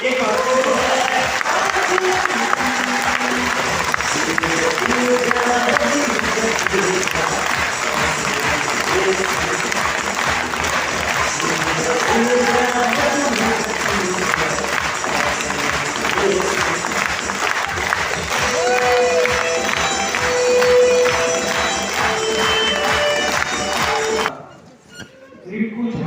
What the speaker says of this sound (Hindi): आप सब लोग इतनी जोर से तालियां बजाएं